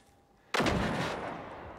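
A single sharp gunshot blast in the video game Generation Zero after a quiet moment, followed by a long booming decay, loud and close.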